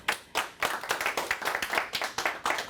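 A live audience claps to welcome a volunteer on stage. The claps are steady and rhythmic, close and fairly loud, with no talking.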